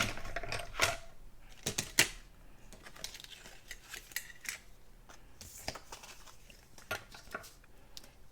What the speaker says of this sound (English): I'm going to use this piece to cut a back for this